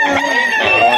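A one-year-old rooster crows loudly and close by, one sustained raspy call filling the whole moment.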